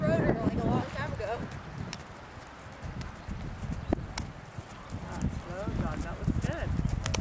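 A horse moves at a real slow jog, its hooves clip-clopping in a loose, uneven rhythm close by, with wind and a voice talking over the hoofbeats.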